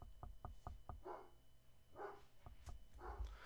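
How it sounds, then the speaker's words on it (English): Several dogs bark in the distance, starting with a quick run of faint yaps and followed by louder, spaced barks, all quiet and with no talking. "My dogs are barking, ignore that."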